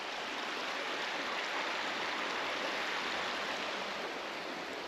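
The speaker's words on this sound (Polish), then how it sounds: "No i rzeka jest." Steady broadband rushing of a river flowing in France, continuous and even throughout, nearby with no other sounds.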